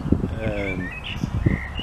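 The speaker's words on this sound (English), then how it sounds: "You can hear the birds singing quite well." Birds chirp and tweet nearby in short bursts in a small park in Forfar, with a pigeon-like coo and rustling outdoor background.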